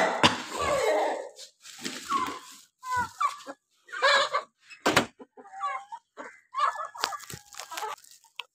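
Chickens cluck and squawk in irregular bursts nearby, several birds calling over one another with short pauses between outbursts.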